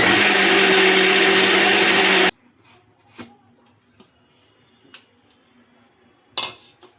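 A mixer grinder whirs loud and close as masala is ground again with water for a shahi matar paneer. It stops abruptly, and then a few light clinks of the jar and utensils follow.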